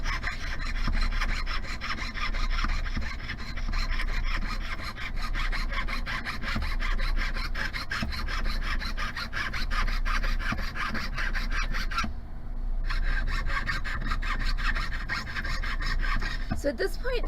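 A jeweler's saw cuts through sterling silver for a no-solder ring, giving a quick, even rasping stroke that repeats steadily and close up, with one brief pause partway through.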